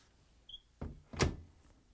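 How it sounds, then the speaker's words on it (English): A front-load washer door on a Frigidaire appliance swings shut: a soft hinge movement, then a solid latching thunk, heard close up in a quiet room. "Close the door."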